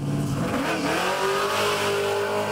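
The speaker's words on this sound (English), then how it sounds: "Race cars are now filling up the parking lot." Race car engines rev at a racetrack on a Sunday night, a loud continuous roar with rising and falling pitch and a faint tire squeal, no voices.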